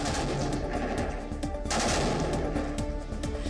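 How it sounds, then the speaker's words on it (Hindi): Cannon fire of a 21-gun salute at a Republic Day parade on Kartavya Path, heard as a dense, continuous roll of loud bangs and booms over a broad outdoor rumble, with no pauses between reports. "21 तोपों की सलामी के साथ परेड की शुरुआत हुई"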